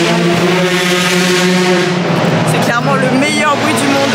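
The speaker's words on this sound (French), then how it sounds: "Il y a les F4 qui roulent là" Formula 4 race cars lapping the Pau street circuit, a loud, steady engine whine with harmonic bands that gives way to passing cars, while someone talks over the noise.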